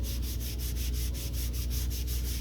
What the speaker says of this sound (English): And I'm also going to use my embossing buddy